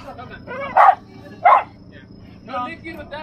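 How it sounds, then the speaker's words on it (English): A dog barks outdoors in Florida, two sharp close barks followed by a softer whine, mixed with people talking nearby. "He barks a lot, but he doesn't do nothing."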